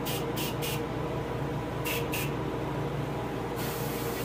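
An airbrush sprays paint onto a largemouth bass taxidermy fish, with short hissing bursts, two quick ones, then a pause, then two more and a longer final spray, over a constant compressor hum.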